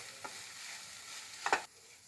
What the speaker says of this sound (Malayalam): അതിലേക്ക് നമുക്ക് ഈ ചിക്കനും കൂടി ഇട്ട് കൊടുക്കാം. നന്നായി ഒന്ന് വഴറ്റിയെടുക്കാം.